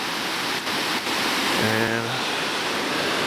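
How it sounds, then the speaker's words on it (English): Waterfall rapids gush through a pipe beneath a road, a loud, steady roaring rush of water filling the whole clip while someone speaks briefly over it. "here's that waterfall comes down, goes underneath the road, comes out that right there, through that pipe, gushes down here"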